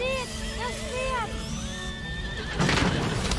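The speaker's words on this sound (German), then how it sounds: "Seht das Pferd!" A horse in the medieval video game A Plague Tale: Innocence whinnies in a few rising and falling cries, with game voices talking over it and a burst of louder noise near the end.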